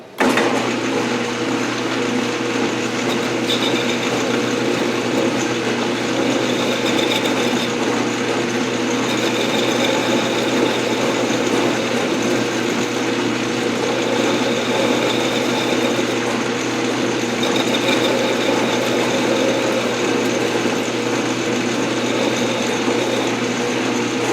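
Machining to flatten the end of a Harbor Freight arbor press handle: a steady, continuous mechanical whir and hum with faint ratcheting texture, running unbroken and fairly loud throughout with no talking.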